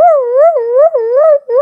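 A dog howls loudly and close up in a long wavering, sing-song tone, rising and falling in pitch with a couple of brief breaks.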